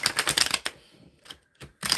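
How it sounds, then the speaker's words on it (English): Tarot card deck being shuffled by hand, quick riffling bursts at the start and end with brief flicks between, close and crisp without speech. "Let me give this a good shuffle before I scroll up."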